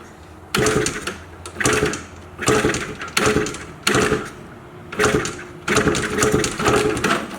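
A Suzuki 250cc two-stroke engine fitted to a Honda ATC trike is kicked over in repeated bursts, each catching briefly with a rough, raspy buzz before dying, about eight short attempts in close succession.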